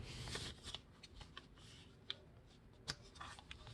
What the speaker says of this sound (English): Let's fold it up.